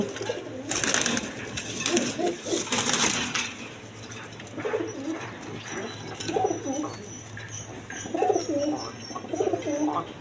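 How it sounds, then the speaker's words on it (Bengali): A male and female pair of Rajgolla pigeons coo in rolling, repeated phrases over a steady background hiss, with a few broader bursts of noise early on. "এখানে এক পেয়ার রাজগোল্লা কবুতর আছে, কোয়ালিটি সম্পন্ন কবুতর"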